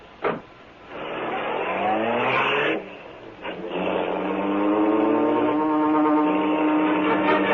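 Car engine sound effect from an old-time Green Hornet radio drama: a brief thump, then a motor revving and accelerating with rising whine and strong engine harmonics, loud and continuous, no voices.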